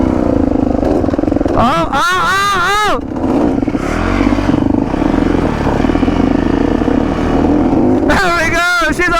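A motorcycle engine recovered from a flash flood fires up and revs in loud bursts, roaring at the start and again near the end with a steady idle rumble between, while people talk and exclaim over it.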